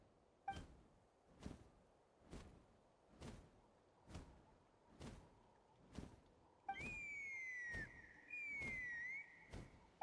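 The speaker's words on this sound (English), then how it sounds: "That sounded like a whistle." A whistle rings out in Genshin Impact, a sustained tone that falls in pitch and repeats, heard over a steady series of regular thudding beats, moderately loud.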